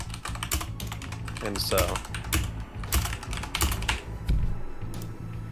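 Steady typing on a computer keyboard, a dense run of close key clicks continuing throughout while a person speaks over it.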